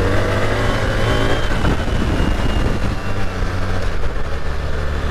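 A 2025 BMW R 1300 GS Adventure motorcycle engine pulls steadily under acceleration on the road, with a strong continuous drone and wind noise throughout, no voices.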